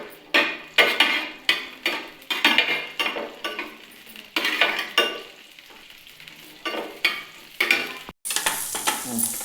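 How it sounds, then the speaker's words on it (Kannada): Half an onion fries in a pan for a bitter gourd palya, stirred with a spatula. Rhythmic scraping strokes come about once a second over a close sizzle, followed by a louder burst of frying near the end. "ಈರುಳ್ಳಿ ಒಂದು ಅರ್ಧ ಈರುಳ್ಳಿ ಇದು ಫ್ರೈ ಮಾಡ್ಕೊ"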